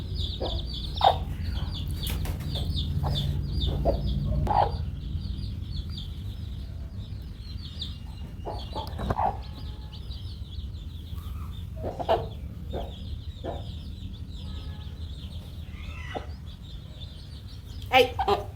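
A hen clucks repeatedly among her five chicks, with soft peeping chick calls scattered throughout over a low background rumble; occasional louder clucks stand out near the close.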